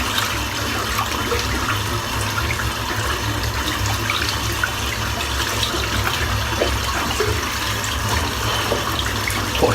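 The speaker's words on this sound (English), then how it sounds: "Rinse the soap out now." Tap water runs steadily into a basin while soap lather is rinsed off after a head shave, a close, even rushing stream with small splashes and no pauses.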